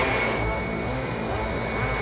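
An industrial vacuum cleaning machine blowing hot air during a cleaning job, a loud steady roaring whoosh with a faint high whine on top, close and unbroken throughout, with no voices.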